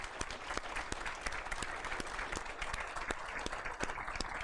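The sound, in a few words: audience applause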